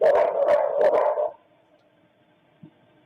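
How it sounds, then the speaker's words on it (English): A dog barks in several loud, close bursts, followed by a quieter stretch with one faint short yelp near the end. "They're trying to call all these people through all this dog freaking barking."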